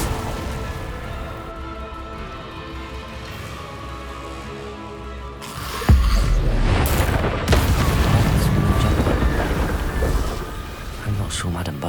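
In Hogwarts Legacy, an Incendio fire spell bursts with a sudden loud boom, followed by a sustained rumbling, crackling roar of flames that stays strong to the end over a dense game soundtrack.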